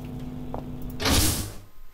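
A door mechanism in Penumbra: Black Plague creaks and slides open once, rising to a loud, airy mechanical rush before it settles, heard alone with no talk.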